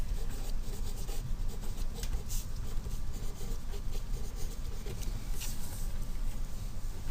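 Math is written on a board in a classroom: continuous scratchy strokes and taps at close range, with no talking.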